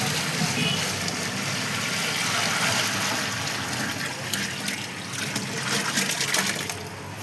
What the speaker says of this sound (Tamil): இப்போ சரிசமாக தண்ணி ஊற்ற போகிறோம்.